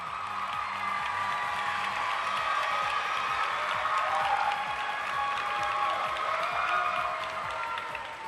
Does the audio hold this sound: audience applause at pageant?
yes